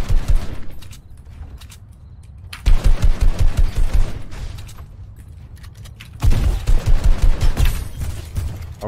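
Automatic gunfire in the video game Fortnite arrives in two loud, rapid bursts separated by quieter stretches of game ambience, each burst a fast string of sharp shots.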